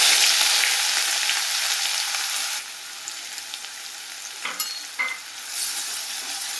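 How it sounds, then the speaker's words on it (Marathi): Chopped onion tossed into hot oil for chole, giving a loud, steady sizzle that settles into a quieter frying hiss with a few soft clinks of a utensil. "तेल गरम झालं आहे, त्यामध्ये कांदा टाकून घ्या"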